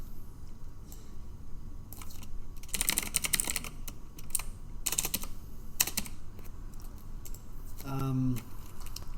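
Rapid clicking of computer keys in uneven bursts, pausing briefly between runs, with a short tonal electronic sound near the end.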